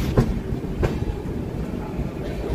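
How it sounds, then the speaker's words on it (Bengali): A train standing at platform 7 of Kharagpur Junction gives a steady loud rumble with a couple of brief clunks, like wagons shifting, with no talk. "আমাদের ট্রেন এই মুহূর্তে ঢুকেছে খড়গপুর জাংশনে।"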